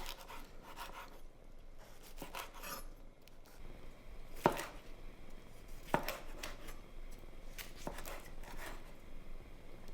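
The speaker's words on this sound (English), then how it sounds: "place them on a chopping board and cut them into thick slices" A knife slices cooked sausages on a chopping board, producing soft repeated cuts and scrapes with a few sharp taps against the board, quiet and close.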